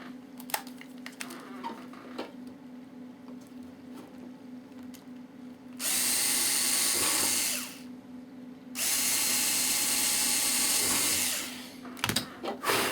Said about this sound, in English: Okay, we're going to drill these